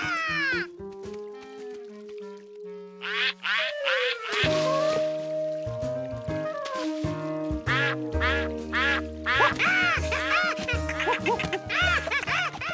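Cartoon ducks quack repeatedly in a lively burst of squawks over a bouncy musical score, the quacks close and loud, mixed with playful giggles and comic sound effects.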